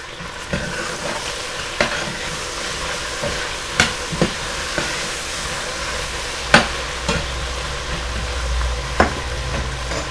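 Browned suqaar meat with tender onions and freshly added tomatoes sizzling in a pan, a constant frying hiss over ten seconds punctuated by irregular sharp spoon clacks and scrapes, close up with no voices.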